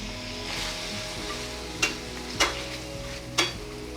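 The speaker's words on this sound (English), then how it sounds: "I'm gonna mix that all in." Chili mac sizzling in a pan and being stirred, a soft steady fry with three sharp scraping clinks of a utensil against the pan, close and alone.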